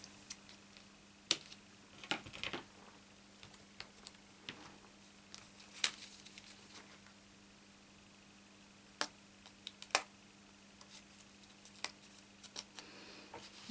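Paper trimmed to size with a cutter for a Lotus Blossom card, a few quiet scattered snips and clicks with long quiet gaps between them, faint and close.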